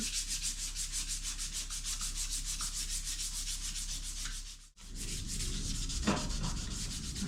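Steady, rhythmic back-and-forth rubbing of 400 grit sandpaper over a motorcycle engine case, close and continuous, with a brief pause midway before the strokes resume.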